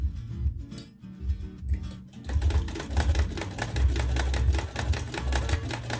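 An old sewing machine, more than fifty years in use, stitching close up: a brief slow start, then a steady, rapid mechanical clatter of the needle and gears running continuously.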